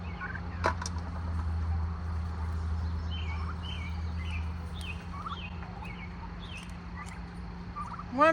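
Turkeys on a family homestead garden gobble repeatedly at a moderate distance, a series of rattling calls spread through the stretch over steady outdoor background noise, with no talking.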